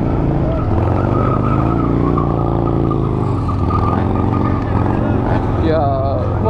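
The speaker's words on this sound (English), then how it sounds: "Trying to do the roll and burn out, but he couldn't get it." A motorcycle attempting a rolling burnout at a bike pre-ride event, with loud engine roar and rising tire squeal close by while people talk over it.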